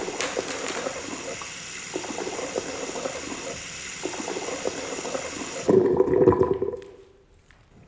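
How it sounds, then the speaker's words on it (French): Tap water runs steadily while hands are washed beneath it, a close continuous rush that swells briefly near the end before cutting off to near silence. "je me lave bien les mains de nouveau"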